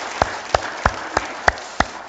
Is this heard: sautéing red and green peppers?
no